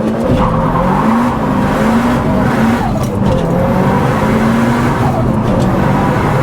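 A Mitsubishi Evo 9 launches hard on a wet road with lots of wheel spin, its engine roaring loudly and rising in pitch through repeated gear shifts, close and continuous.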